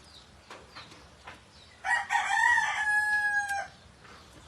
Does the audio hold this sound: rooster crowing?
yes